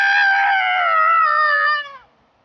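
A person vocally imitates a child's scream: a loud, sustained high-pitched wail lasting about two seconds, then trailing off into near silence. No other speech is heard.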